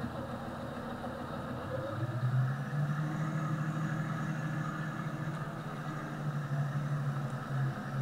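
A vehicle driving in the Farming Simulator 19 video game, a steady mid-pitched engine drone that rises slightly in pitch and holds constant, moderately loud with no talking.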